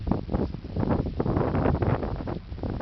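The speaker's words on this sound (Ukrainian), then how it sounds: "Вітер сильний." Strong wind buffets the microphone in heavy, rumbling gusts, loud and continuous throughout, with no voices.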